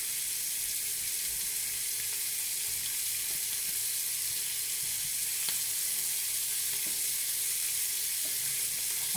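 Onion sizzling in a frying pan over moderate heat while preparing Swedish plankstek, a steady close hiss that runs unbroken, with a few faint clicks of a utensil and no talking.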